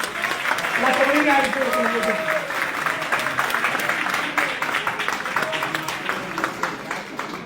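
A seminar audience claps in sustained applause that runs under a man's loud, continuous speech throughout.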